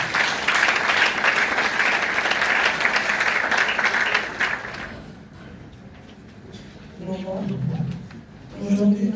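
A funeral congregation breaks into loud, sustained applause for about five seconds, then it fades and a few voices speak over quieter murmuring, with a brief burst of clapping returning at the end.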